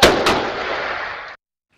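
Gunshots ring out in a home during a burglary shootout caught on surveillance, two sharp loud reports in quick succession followed by a reverberant tail that cuts off abruptly.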